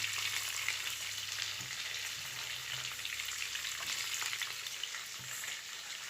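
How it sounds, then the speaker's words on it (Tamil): Onions sizzle in a kadai during the early frying stage of a Tamil-style mutton kulambu, a steady, close, dense crackling hiss that runs unbroken throughout with no voices over it. "இப்போ நம்ம வந்து கடாயில் ஆனியன் ஆட் பண்ணுறோம்"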